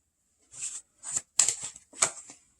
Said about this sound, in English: They're just a couple of cards that I was shuffling that I flipped.